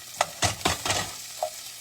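Ground beef frying in a home-cooked pan, with a few distinct scraping stirs and a soft sizzle between them, close up and with no talking.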